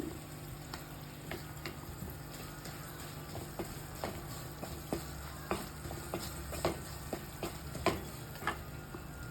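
Chilli powders, Kashmiri chilli powder, fenugreek and asafoetida powders sautéing in oil for Kerala-style bilimbi pickle, a soft continuous sizzle under regular spoon taps and scrapes against the pan, close and quiet.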